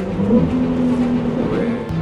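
Ferrari 296 GTB with an 830 hp engine accelerating, a steady close engine drone with a rising tone held for about two seconds.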